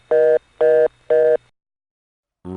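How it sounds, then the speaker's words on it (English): A telephone reorder tone from the White Plains Tandem 1 exchange plays three evenly spaced, complete buzzy pulses, then falls silent before another tone starts at the very end. "the reorder tone in White Plains Tandem 1 always starts with a whole reorder tone"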